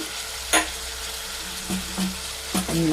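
Green chillies and garlic dropped into hot oil for tomato chutney: a continuous close sizzle with a few sharp clatters as pieces land and get stirred, no voices.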